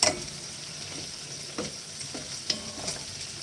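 Vegetables sizzle in a hot pan while being stir-fried, a soft constant hiss broken by a few sharp pops and stirring scrapes, with no talk.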